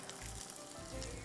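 Ginger and garlic frying in a pan for a pulao, a steady close hiss and crackle of sizzling oil heard alone.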